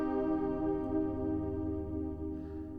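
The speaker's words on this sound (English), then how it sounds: "So we found this sound that we liked on the Hydra synth" A sustained, harmonically rich tone played on a Hydrasynth synthesizer holds steady and loud, slowly wavering, with a faint brighter shimmer creeping in near the end.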